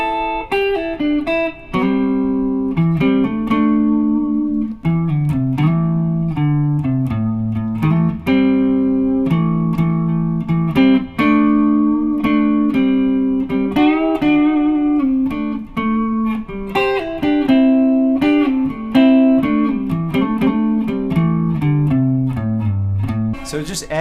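An electric guitar plays double stops up and down a scale, two-note chords ringing in steady succession, loud and close with no talking over them.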